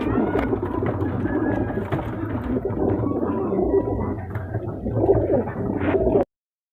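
Black Sherazi pigeons in a breeding setup in Multan, low soft cooing and rustling close by, continuous and fairly loud, with faint voices in the background.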